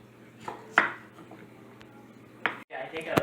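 A knife chops jalapeño peppers into thin slices on a board for cowboy candy, giving a few sharp, separated cuts in a quiet kitchen, with some faint background talk.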